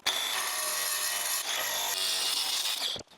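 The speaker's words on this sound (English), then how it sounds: "That should give it a much cleaner cut than what this angle grinder can do." An angle grinder cuts through patterned shower tile, a loud continuous high-pitched grinding whine that holds steady for about three seconds before the blade pulls free and the sound drops away.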